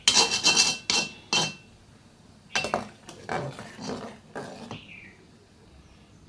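A utensil stirring semai vermicelli with milk and cinnamon in a pan: a quick run of scraping clinks against the metal, a pause, then slower rasping strokes, close and fairly crisp, with no voice.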